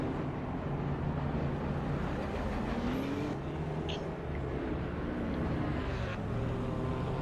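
A field of GT3 race cars at Monza in the sim racing game Assetto Corsa Competizione, engines droning and whining together in a dense, continuous roar that carries on steadily.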